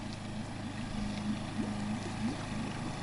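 A small Suzuki outboard motor hums steadily in the distance on a lake, a low droning engine tone that wavers slightly as the boat passes, with no one talking.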